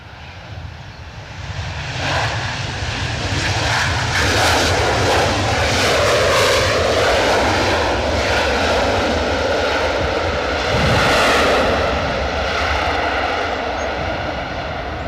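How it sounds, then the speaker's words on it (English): Engines of an Aer Lingus Airbus A320 at Edinburgh Airport, a loud sustained roar with a whining, shifting drone that swells and holds close by for the whole stretch, with no voices. "Aer Lingus A320 to Dublin."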